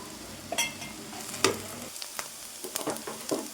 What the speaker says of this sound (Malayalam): ഞാൻ ക്രഷ് ചെയ്ത ചിക്കൻ ഇതിനകത്തേക്ക് ഇട്ട് കൊടുക്കാൻ കേട്ടോ. അതൊന്നും മൊരിയണം. സവോളയുടെ ഒപ്പം കിടന്ന് മൊരിയിട്ട്